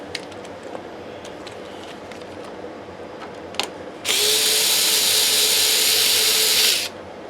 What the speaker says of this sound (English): Let's get these screws out.